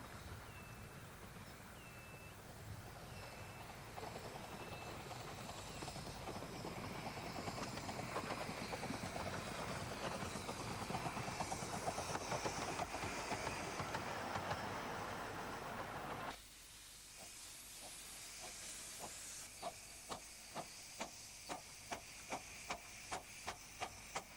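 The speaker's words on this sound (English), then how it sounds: "the first to arrive from New Romney is number 7, Typhoon" Romney, Hythe and Dymchurch Railway locomotive No. 7 Typhoon, a miniature steam engine, pulls into Dymchurch with a steady rumble and hiss, then settles to a quieter idle with a rhythmic series of clicks as the carriages roll past.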